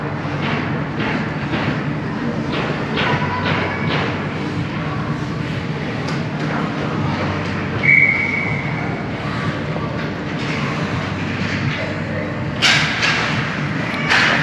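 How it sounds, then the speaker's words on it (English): A referee's whistle at a youth U11 ice hockey game between Orangeville and Burlington gives one short, clear blast midway through. It sits over steady arena noise with scattered thuds and clatter from the rink. "Burlington will bring that one in, throw it towards the net, saved by Travis for the whistle"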